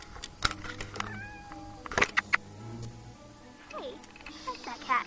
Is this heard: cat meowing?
yes